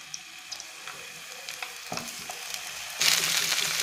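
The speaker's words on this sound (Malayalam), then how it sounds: "വെളിച്ചെണ്ണ ചെറുതായിട്ട് ചൂടായി തുടങ്ങുമ്പോൾ ഈ എടുത്തു വച്ചിരിക്കുന്ന മാങ്ങ അതിനകത്ത് ചേർത്ത് കൊടുക്കാം" Mango pieces going into hot coconut oil give a soft, crackly sizzle that builds and then swells into a louder, brighter hiss near the end.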